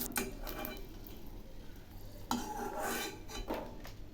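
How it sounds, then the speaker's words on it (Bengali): A utensil clinks and scrapes quietly against a pan while three dry red chillies fry in oil, with a few sharper metallic taps spaced over a few seconds and no voices. "এখন আমি 3টে শুকনো লঙ্কা ভেজে নিচ্ছি, একটু নেড়ে দিচ্ছি।"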